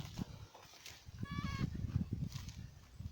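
Bush goats and young kids bleat on a farm in western Jamaica, with faint, scattered bleats under a noisy, rumbling outdoor background.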